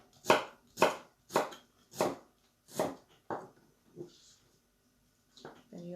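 A knife chops through a giant radish on a board, six or seven steady, evenly spaced thuds that slow and fade, followed by a short voice.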